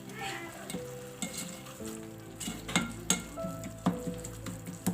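Butter and masala fry in a pan while being stirred for a chicken stuffed bun filling, a steady close sizzle broken by scraping stir clicks and clatters, with no talk.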